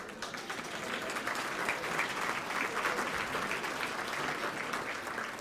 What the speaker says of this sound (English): please accept our applause.